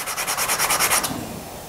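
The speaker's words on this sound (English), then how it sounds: "So a quick final cleanup with some sandpaper to get that glue off." Sandpaper rubs glue residue off a machined metal parallel holder in quick, rhythmic back-and-forth strokes for about a second, then stops, leaving a faint tail of room tone.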